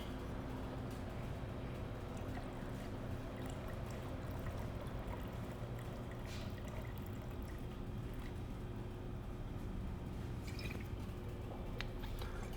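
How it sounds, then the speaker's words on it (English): Grappa pours and trickles into a cocktail measure behind a bar, a soft continuous liquid flow with faint drips, quiet and steady over low background noise. "I'm gonna go 4 ounces of grappa."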